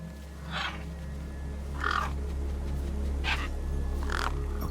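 Birds cawing over a corpse in the video game Beyond a Steel Sky: four separate harsh caws spaced about a second apart, fairly close, over a low steady hum.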